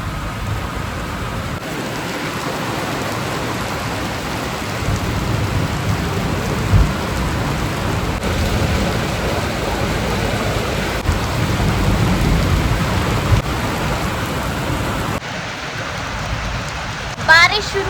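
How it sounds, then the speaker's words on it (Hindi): Heavy monsoon rain in the Himalayan hills near Shimla pours steadily and loudly, with low rumbles of thunder rolling underneath throughout. "बारिश शुरू हो गई है और खतरनाक बारिश हो रही है, मोटी मोटी बारिश"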